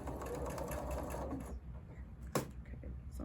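A sewing machine that needs a new needle runs in a fast, steady burst as it stitches quilt pieces for a sampler block, then stops, followed by a sharp click and quiet handling sounds.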